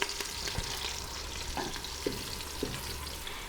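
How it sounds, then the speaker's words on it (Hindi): Onions, curry leaves, cloves and black pepper frying gently in oil in a pan, a soft steady sizzle with a few light clinks from stirring, no voices. "मसालों को हम हल्का सा फ्राई करेंगे।"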